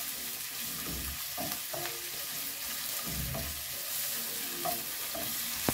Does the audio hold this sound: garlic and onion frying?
yes